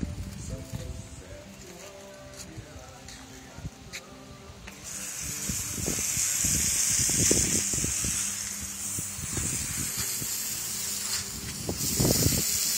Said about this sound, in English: Spray the pot, shock it up.